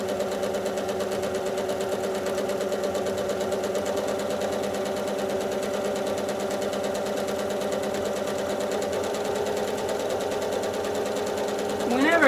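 A sewing machine hums at a steady, continuous pace while stitching tiny stippling on a quilt. The motor stays even and close throughout, and a voice talks over it.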